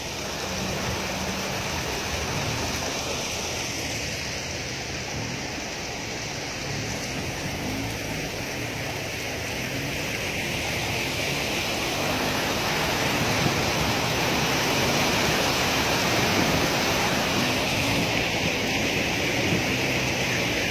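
Fast-flowing floodwater during the 2019 floods in Kelantan, Terengganu and Pahang, a loud, constant broadband rushing roar that holds steady throughout and swells slightly toward the end.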